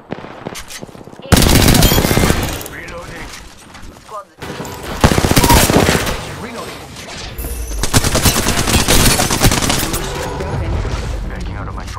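Rapid automatic gunfire bursts out in Apex Legends, loud and close, in long sustained volleys with short pauses, while a voice talks underneath.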